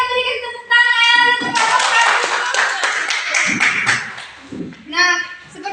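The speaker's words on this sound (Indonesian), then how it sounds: "Ayo kita berikan tepuk tangan." Students in a classroom clap for classmates who have just presented, a close burst of lively hand claps that rises after a sung or voiced tone and fades out, with children's voices before and after.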